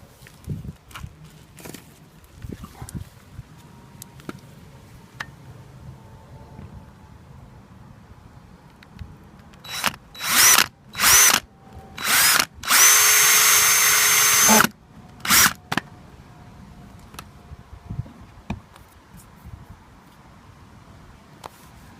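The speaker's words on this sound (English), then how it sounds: "Okay, so I'm now going to drill that." A power drill whirs in several short bursts, then runs in one longer sustained stretch, drilling a hole in a Land Rover Freelander 2 car body, close and loud over quiet handling noises.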